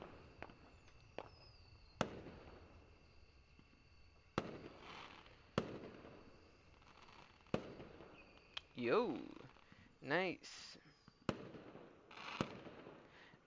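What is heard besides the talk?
fireworks rockets exploding in a video game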